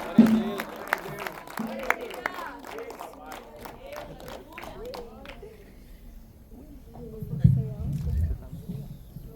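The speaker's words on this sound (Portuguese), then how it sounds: "Dê uma salva de palmas para Jesus." Church congregation applauding during a worship service, a burst of claps under a preacher's voice that fades after a few seconds, leaving quieter room sound and speech.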